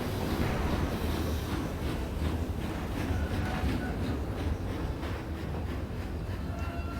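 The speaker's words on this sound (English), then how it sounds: "Did that train just pull out?" A train pulls out in the war game Company of Heroes 2, a dense, continuous rumble with rhythmic clacking under a steady noisy roar.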